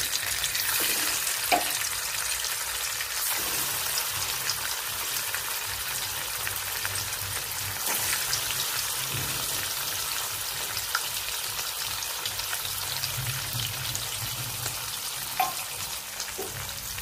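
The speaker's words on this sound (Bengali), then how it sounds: "আমি এই তেলটা দিয়ে পনিরটাকে হালকা ভেজে নেব" Paneer pieces fry in hot mustard oil, giving a steady, even sizzle and crackle that runs on without a break, with occasional faint clinks and small pops close by.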